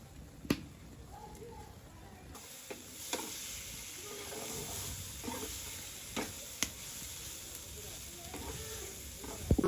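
Fish roe frying in a pan of oil for a homemade Bangla dish, a soft continuous sizzle broken by a few sharp clicks and clinks of stirring.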